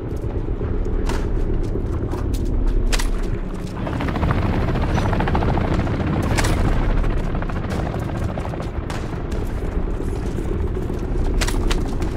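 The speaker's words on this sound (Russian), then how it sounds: "Они подняли дрон «Комар»." A Komar drone is launched in Call of Duty Warzone 3, a loud continuous rotor-like buzz with bursts of gunfire and sharp impacts scattered throughout.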